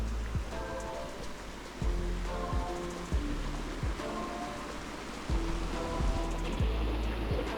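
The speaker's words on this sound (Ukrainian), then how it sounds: "це природній, це не штучно створений, це природній такий водоспад" A natural waterfall in the Carpathians gives a loud, unbroken watery roar, with repeated tonal swooping sounds riding over the rush.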